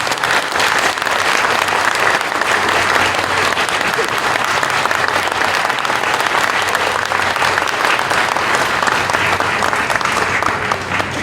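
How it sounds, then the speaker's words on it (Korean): A church congregation at an elder ordination ceremony applauding two elders, a loud, dense and sustained round of clapping filling the hall throughout. "그동안 너무 수고 많으신 우리 두 장로님께 박수 한번 보내고 싶습니다."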